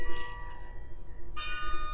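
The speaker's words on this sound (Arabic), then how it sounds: "الجرس, the bell, عم بيرن, is ringing." A school bell rings in London, giving sustained tonal chimes with a fresh strike partway through over a low outdoor background, with no talking.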